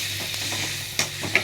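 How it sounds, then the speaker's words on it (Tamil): Cut onion, green chili, curry leaves and tomato sizzle steadily in a pan, a close continuous hiss with a couple of brief stirring scrapes near the end. "வெங்காயம், பச்சை மிளகா, கருவேப்பிலை இதை கட் பண்ணி வச்சதை வதக்குறேன்."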